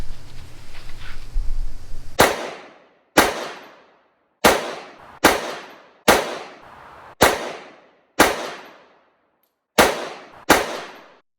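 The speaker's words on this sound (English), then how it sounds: "let's go ahead and shoot the XL and see how she performs" A SIG P365 XL pistol fires ten shots outdoors at a range, each a sharp, loud crack with a quick decaying tail, spaced irregularly about a second apart after a brief stretch of low background noise.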